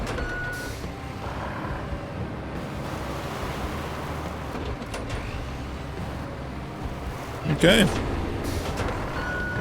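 Dump truck in the video game Road Craft, a steady loud engine drone throughout with a brief burst of reversing beeps near the end; a voice speaks a single word.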